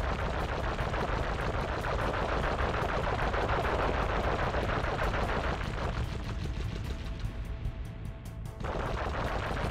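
Continuous rapid machine-gun fire from shooting in the Sly Cooper video game, loud and dense for most of the stretch, with a brief dip near the end before the bursts resume.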